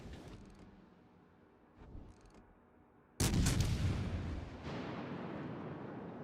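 Warship guns fire in a naval combat game, a loud booming blast striking suddenly midway and rolling into sustained rumble, after a few fainter earlier thuds, with no talk.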